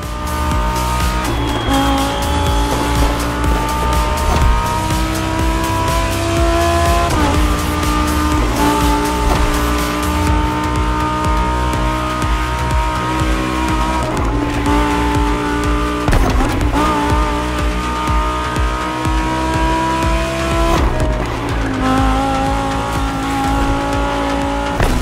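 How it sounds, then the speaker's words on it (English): Lamborghini Huracan Performante in Liberty Walk custom trim racing in The Crew Motorfest, with a continuous loud engine roar, gear-change dips and repeated tire squeals and skids throughout. "With the fastest customized car of this whole Liberty Walk experience, the Huracan Performante by Liberty Performance."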